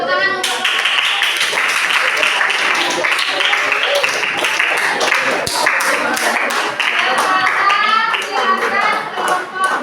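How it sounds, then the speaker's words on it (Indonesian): A classroom audience of students claps for a group presentation, with dense, lively clapping that carries steadily throughout while children's voices call and chatter over it. "Tepuk tangan untuk"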